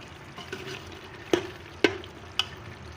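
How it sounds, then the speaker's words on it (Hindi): Meat frying in a pressure cooker pot, a soft steady sizzle with three sharp spoon-on-metal knocks near the end. "गोश्त को अच्छी तरह भून लें।"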